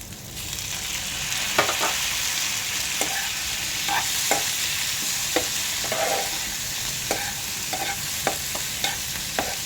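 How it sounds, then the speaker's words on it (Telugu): Tomatoes fry in a pan for an amaranth-leaf and liver curry, giving a steady sizzle with repeated sharp scrapes and taps of a spoon as they are stirred, close and fairly loud. "ఇప్పుడు దీంట్లోనే టమాటాలు వేసుకుందాము"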